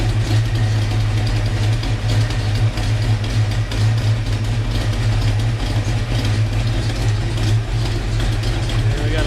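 A 1990 Saleen Foxbody Mustang V8 with a Bleakley Ford Impressor exhaust idles steadily and close, a deep, even, burbling rumble that holds throughout with a slight lope.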